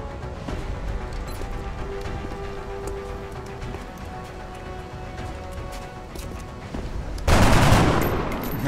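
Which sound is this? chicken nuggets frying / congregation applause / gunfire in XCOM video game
gunfire in XCOM video game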